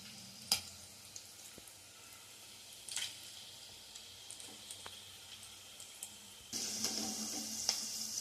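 Boti kabab, precooked beforehand, fries in a pan with a soft, continuous close sizzle, scattered with light clicks and stirring taps, and the frying grows louder and brighter toward the end.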